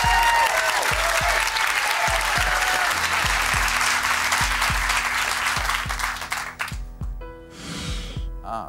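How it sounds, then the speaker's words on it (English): A studio audience at the Deal or No Deal game show applauds and cheers loudly and steadily over a regular low thumping beat, then the clapping thins and fades out near the end. "could you give yourselves a cheer?"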